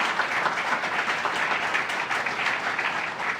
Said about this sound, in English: let's give Governor Hochul another round of applause